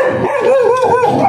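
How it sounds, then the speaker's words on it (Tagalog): A dog barks on a city street among street vendors, giving a quick run of four or five loud, close, yelping barks with no speech over them. "Atapang na aso ah."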